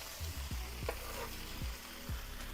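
Quesabirria tacos fry in a pan of rendered fat after being flipped, giving a steady, close sizzle broken by a few short scraping thuds of a spatula moving the tortillas.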